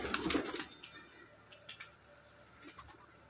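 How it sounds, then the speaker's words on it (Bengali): Pigeons at a pigeon house give soft, fairly faint coos with a few brief flutters across a short quiet moment. "আর এই যে পায়রার ঘর"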